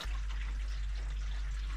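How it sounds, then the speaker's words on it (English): Fresh water pours into a boat's onboard tank, a steady hollow rush and gurgle of flowing liquid close by, continuous and unbroken, with a low rumble beneath and no voices. "we have fresh water going into a tank, which is plumbed back to our filters"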